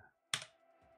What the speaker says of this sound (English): I hit end on my keyboard